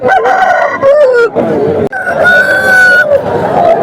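Roosters crow loudly and repeatedly at a busy outdoor hen market in Kundarlapalli, several long calls overlapping with clucking and crowd chatter.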